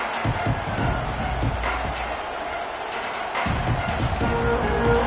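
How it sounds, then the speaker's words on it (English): A stadium crowd roars and cheers at a Notre Dame versus USC college football game in College Football 26, a dense steady wall of noise with game thuds and a commentator talking over it. "This crowd ready to make its presence known"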